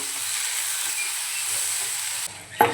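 Onion and tomato sauté in a pan with a pinch of salt for paneer matar masala, a soft, steady sizzle that drops away near the end, followed by a short clatter.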